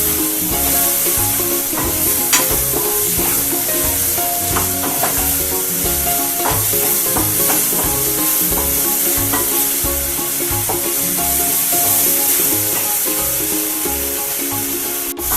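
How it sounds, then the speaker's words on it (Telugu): Paneer masala frying in oil while a spoon stirs and scrapes the pan, a loud continuous sizzle with rhythmic stirring strokes throughout. "ఆయిల్ అంతా పైకి వచ్చేలాగా ఫ్రై చేయాలి."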